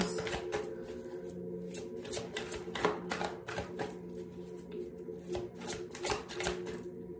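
Tarot cards are shuffled and handled at a table, with a quick irregular run of crisp riffling snaps and light taps, close and moderately quiet over a low steady hum.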